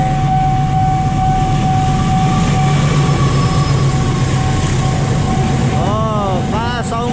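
The KA Sawunggalih locomotive train passes near a level crossing by Kramat Station, rumbling loudly and steadily, with a sustained horn-like tone and squealing wheels toward the end.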